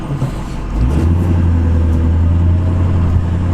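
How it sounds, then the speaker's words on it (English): A diesel truck with a stock exhaust drives down the road, its engine a steady, loud low rumble that swells and settles into a constant drone after a brief quieter start. "this truck sounds so good too"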